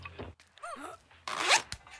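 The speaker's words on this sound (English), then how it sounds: "Grab the zip noise." A zipper sound effect from the video game I Am Old Man: a few quick, bright zipping strokes, with the loudest rasp near the end, close and clear with no talking.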